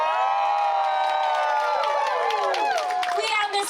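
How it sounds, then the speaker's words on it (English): A crowd at an outdoor Port Moody Canada Day celebration in Rocky Point Park cheers and shouts loudly for a person, the dense roar of voices filling the whole stretch with high whoops and yells. "you're going to cheer as loud as you can if you're here cheering for them"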